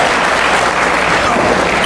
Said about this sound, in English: Crowd showing their appreciation for it.